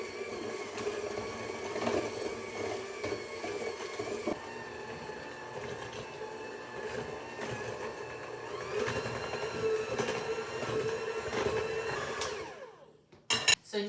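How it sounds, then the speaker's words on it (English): An electric hand mixer creams peanut butter walnut chocolate chip cookie dough, a steady motor whir running continuously for about twelve seconds before cutting off, followed by a few light knocks. "I'll hook up my mixer here."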